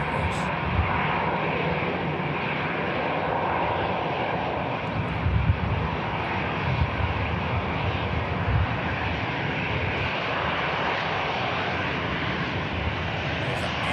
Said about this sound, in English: Next aircraft to come around the corner just before this Turkish Max gets up.